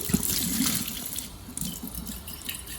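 Tap water runs and splashes as glassware is rinsed after cleaning with chromic acid mixture, a close, continuous trickling and sloshing with no talk.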